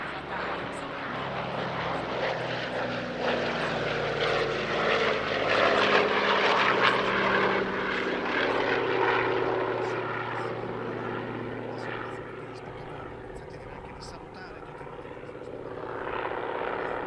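A Douglas DC-6B propeller airliner passes at an air force centenary airshow, its multi-engine piston drone swelling to a loud peak mid-pass then fading, with a brief return near the end.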